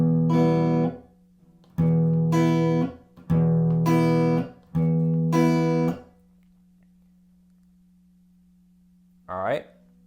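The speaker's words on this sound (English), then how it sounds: "Here's what it'll sound like when you cover the strings." Kompa-style rhythm guitar strummed with the strings covered gives four short, chunky chord bursts separated by gaps, with a low steady hum between them and a brief scrape near the end.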